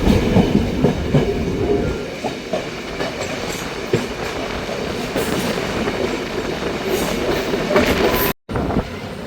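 The Night Mail Express train runs on rails near Jaffna at night, a loud, close, continuous rumble of wheels with rhythmic clicking and a brief dropout near the end.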